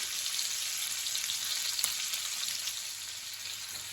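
Ham cooking in a hot pan for a French lunch sauce, a close, continuous crackling sizzle with one sharper pop partway through and no voices.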